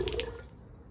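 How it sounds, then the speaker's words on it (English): Water poured from a bucket into a shared bowl at an indoor water-sharing service, a brief close splash and trickle that quickly fades. "Thus I give my water to our common bowl."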